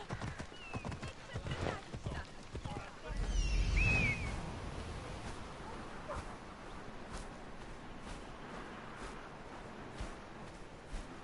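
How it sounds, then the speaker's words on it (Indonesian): Horse hooves clip-clop as a horse is ridden in Assassin's Creed Odyssey, a fairly faint trotting rhythm mixed with other game ambience and a brief louder burst. "Wah, ini naik kuda loh."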